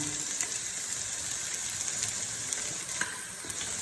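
Chicken and vegetables for chowmein sauté in a hot pan, giving a steady close sizzle with light crackles and occasional stirring scrapes, and no talking.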